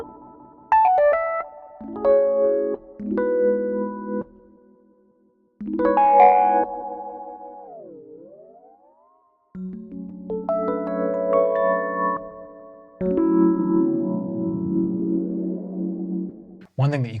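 Notes and chords on a Keyscape virtual keyboard play through an echo effect, with repeating tails and swooping pitch bends across several bursts separated by short gaps.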